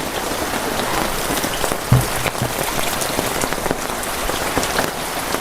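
Steady rain falls on a surface at a Kerala home. The hiss is dense and continuous, with patter close by and a single sharp knock about two seconds in.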